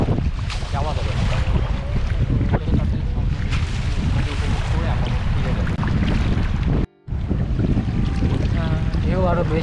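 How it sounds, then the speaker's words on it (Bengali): Sea waves rolling onto the shore at Saint Martin's Island as the tide comes in, a loud constant wash of surf with heavy wind noise buffeting the microphone and a person speaking over it. "দেখুন ঢেউ আস্তে আস্তে জোয়ার এদিকে আসতেছে, আর যত জোয়ার আসতেছে ঢেউ বেড়ে যাচ্ছে।"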